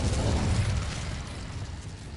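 A low, rumbling burst from an Incendiary fire spell in the video game Hogwarts Legacy on PS5, a single loud explosion that fades into a roaring hiss.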